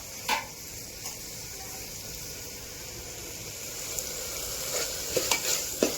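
Vegetables sautéing in ghee in a pan give a steady close sizzle and fry, with a few brief scrapes and stirring knocks scattered through and no voices.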